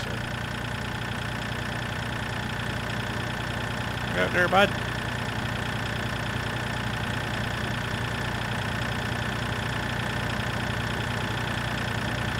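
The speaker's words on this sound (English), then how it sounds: "This is a pretty good little tractor, actually." A small tractor idles steadily in Farm Sim 2013, a constant mid-low engine drone running throughout, with a brief louder burst near the middle as a voice speaks over it.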